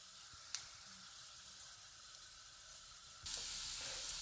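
Cumin seeds and black pepper in a hot pan give a soft, even sizzle with a faint click of stirring, then the frying suddenly grows louder and brighter for the final second.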